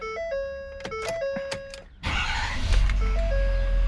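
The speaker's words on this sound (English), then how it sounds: "when you start up the truck," A Ford F350 pickup starts up after an oil and fuel filter change: dashboard warning chimes sound in a tonal pattern, then the diesel engine cranks and catches into a loud, rumbling idle, with another chime sequence following.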